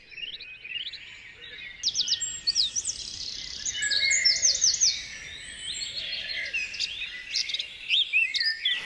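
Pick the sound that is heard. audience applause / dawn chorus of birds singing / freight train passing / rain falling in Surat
dawn chorus of birds singing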